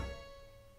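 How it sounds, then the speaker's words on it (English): Sampled harpsichord key release: a faint, brief mechanical thump as held keys are let go, leaving a soft lingering decay of the string tone. "The sound of me letting go of the harpsichord keys."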